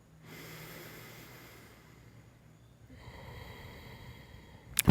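A forceful breath pushed out through the nose during a floor stretching routine, close and breathy with a soft hiss that swells and fades over several seconds, ending in a sharp burst.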